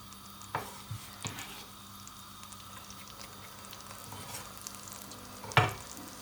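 Onions and garlic sizzle in a hot pan over high heat for a Chinese chicken curry, with a low steady frying hiss and a few sharp clatters and scrapes of stirring, one louder knock near the end.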